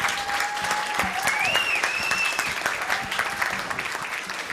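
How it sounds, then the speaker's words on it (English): A conference audience applauds the founder of FreeSwitch and SignalWire at ClueCon, a steady wash of many hands clapping throughout, with a few faint whoops and cheers rising over it. "Big round of applause."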